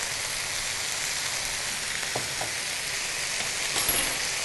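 Potato and cabbage stir-frying in hot oil, a steady loud sizzle with a few faint stirring scrapes partway through, no voices.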